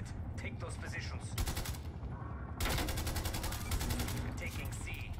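Rapid automatic gunfire in Call of Duty Cold War, dense bursts of loud shots crackling in long sustained strings with brief gaps, set against battle noise and a voice talking at the start.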